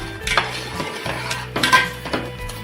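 Halim seeds are stirred in a pot for Maharashtrian fenugreek laddoos, with a spatula clinking and scraping against the metal in uneven strokes, close and fairly loud, with no talking.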